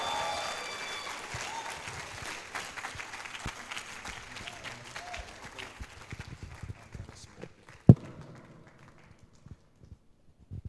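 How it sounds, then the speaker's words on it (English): An audience claps loudly at first, then the applause thins into scattered claps and fades toward silence, with one sharp bang near the end. "I think you can do better with the clapping."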